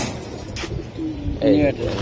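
A Beji pigeon coos in short throaty phrases near the listener, partly under someone talking.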